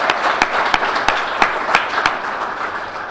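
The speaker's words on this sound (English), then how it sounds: "another round of applause for the Black Boys?" A round of applause at a spring 2021 ring ceremony for the Black Boys, a steady wash of crowd clapping with sharp louder claps standing out at regular intervals, no talking.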